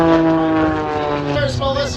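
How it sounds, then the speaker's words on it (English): A Zivko Edge 540 aerobatic plane drones overhead at an Abbotsford airshow, its propeller engine giving a steady tonal hum that shifts pitch as it maneuvers, under an announcer's voice. "It is a Zipco Edge 540, manufactured by Zipco"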